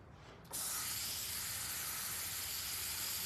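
An airbrush starts spraying paint at about half a second and keeps a steady, close, even hiss to the end, after a brief quieter moment at the start.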